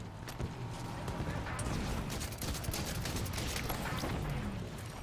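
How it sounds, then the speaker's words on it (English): Rapid gunfire in a Halo 5 Warzone battle, a dense, fast-paced crackle of shots running continuously under game noise and background chatter. "He just shot his own guy"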